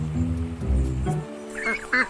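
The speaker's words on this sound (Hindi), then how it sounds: "और फिर बतखों का झुंड आया।" Cartoon ducks in an animated Hindi children's story give two short, bright quacks near the end, after a held tonal sound, set against a soft background bed.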